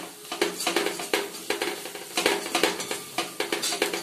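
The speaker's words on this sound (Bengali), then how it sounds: "কাশ্মীরি লঙ্কাটা যে ছিল দিয়ে দিলাম। দিয়ে আর একটু নেড়ে দিলাম।" Kashmiri chilli stirred into chicken masala frying in a pan: rapid, repeated scraping strokes of a spoon against the metal over a soft sizzle, close and rhythmic, with no one speaking.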